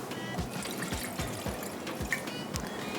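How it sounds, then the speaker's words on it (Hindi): Water pours into a cooking pan set up for boiling about 200 grams of chicken for fried rice, a continuous splashing trickle with repeated low gurgling pulses, close and steady throughout with no talking. "इसके अंदर हम पानी सुटेंगे"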